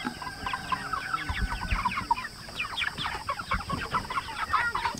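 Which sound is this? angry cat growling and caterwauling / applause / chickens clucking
chickens clucking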